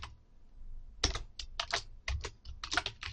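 Names are typed on a computer keyboard in rapid bursts of sharp, close key clicks, separated by brief pauses.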